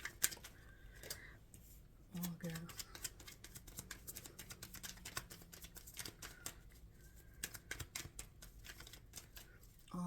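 Tarot cards shuffled in a Scorpio reading for August 2024, giving repeated crisp riffling and flicking clicks in irregular bursts, with a few spoken words over them.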